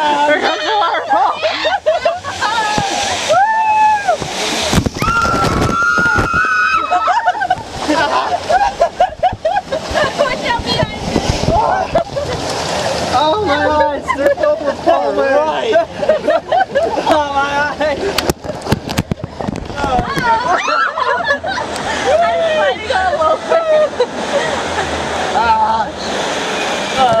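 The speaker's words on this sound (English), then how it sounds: "Here comes the waterfall!" Rushing, splashing water from a waterfall on an amusement park water ride roars continuously while riders shout and chatter excitedly throughout, with bursts of screams over the spray.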